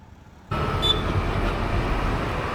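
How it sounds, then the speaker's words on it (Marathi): Steady rumbling train noise starts abruptly and continues overhead on a bridge, with a dull roar and faint metallic squeal mixed with road traffic below. "हो, वरून ट्रेन चालली आहे"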